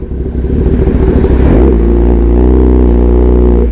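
A Kawasaki ZX-10R big bike on the road, its engine loud and close, rising in a rev before settling into a steady, throbbing cruise with no talk over it.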